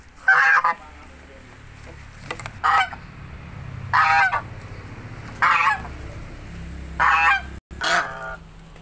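White geese being moved to a new pen honk in five loud, separate bursts spaced a second or so apart, close by, over faint background noise.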